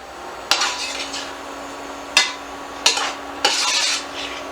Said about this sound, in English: I'm just stirring this all together just to get the oil all over everything.